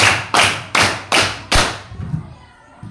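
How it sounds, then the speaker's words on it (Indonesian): A group of pupils claps together in a crisp five-beat pattern of loud, evenly spaced hits, followed by quiet murmuring and shuffling in the room. "Tepuk tangannya di kiri dua kali, di kanan dua kali, di tengah satu kali."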